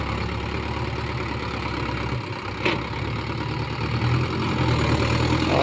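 A Mahindra 585 DI tractor hauls a fully loaded trailer of red mud in high gear, its engine giving a steady, close, heavy drone that swells slightly louder toward the end.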